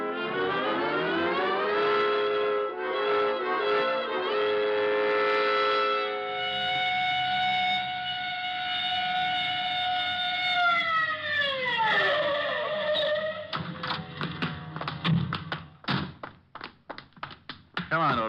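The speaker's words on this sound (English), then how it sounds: "All right, Otis, you can use the siren." A car siren in an old radio detective drama wails loudly and steadily, then winds down in a falling glide and fades out, giving way to tapping and knocking sounds.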